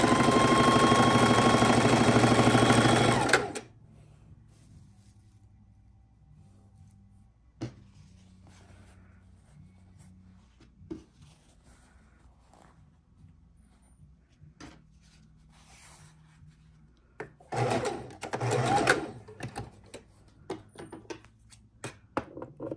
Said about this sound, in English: sewing all of our scraps together